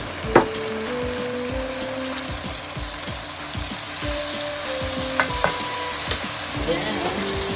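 Carrots and beetroot frying in butter in a pan for mixed vegetable rice give off a loud, continuous sizzle with frequent stirring scrapes and a few sharp clinks of utensil against the pan, close up.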